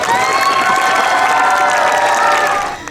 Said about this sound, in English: Can you give second grade a big round of applause?